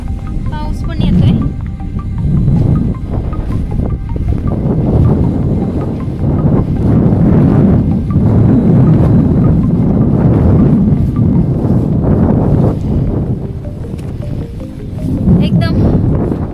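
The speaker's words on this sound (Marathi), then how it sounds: "खूप जोराचा वारा येतोय." Strong, gusty wind roars and buffets the microphone almost without pause during a rainy descent of steep stone steps on a Hadsar fort trek.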